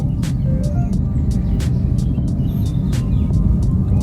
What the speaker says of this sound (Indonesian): Ada truk lagi.